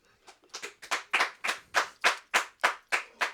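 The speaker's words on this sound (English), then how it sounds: "that's the first round of applause from our first ever studio audience." Small studio audience clapping at a talk-show taping, about a dozen crisp, evenly spaced claps close by, swelling from soft to steady and loud with no talk.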